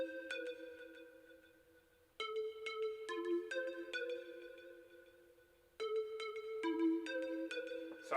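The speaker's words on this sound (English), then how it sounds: "So first, I found this synth sound, had a little melody in my head" A synth plays a melody loop for a beat, with bright bell-like tones stepping through a repeating phrase of sustained notes that restarts partway through, clean and alone with no talking.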